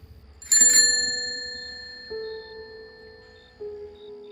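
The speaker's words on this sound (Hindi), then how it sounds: "घंटी की आवाज़ फिर से आ रही है" A bicycle bell rings sharply, followed by two softer single dings that linger and fade, clear and close against near silence.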